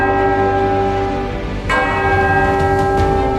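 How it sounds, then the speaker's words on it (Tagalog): A church bell rings as a warning of approaching Moro vintas in Leyte. A sustained, loud metallic toll resonates steadily, and a fresh strike lands partway through as the ringing continues. "siya ay magpapatunog ng kampana"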